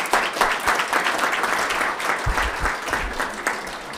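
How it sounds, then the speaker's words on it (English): Applause at a school board of education meeting for student board member finalists, a full room clapping steadily for around four seconds, with a few low bumps and rustles partway through. "let's just give them all a round of applause"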